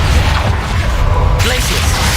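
The Confringo fire spell blasts in Hogwarts Legacy combat, a loud, dense rumble that runs the whole time and shifts in tone partway through, with a voice heard briefly.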